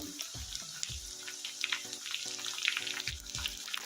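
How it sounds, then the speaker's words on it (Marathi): Curry leaves fry with onions browned to a reddish colour in oil for a Nagar-style kadhi vada, giving a steady close sizzle broken by occasional utensil knocks, with no talk. "कढीपत्ता थोडासा परतून घेऊ"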